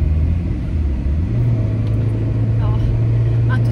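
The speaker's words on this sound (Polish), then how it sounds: "A tutaj nasz samochód z małym silnikiem daje nam się we znaki" Old Renault Symbol with a small engine strains under load, a loud low droning rumble holding steady then rising in pitch as the engine works harder.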